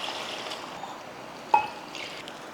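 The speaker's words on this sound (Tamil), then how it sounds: "அதில் தண்ணி சேர்த்துக்கலாம்." Water is poured faintly into soaked seeraga samba rice for a jackfruit biryani, a soft trickling hiss with one sharper splash midway in a quiet kitchen.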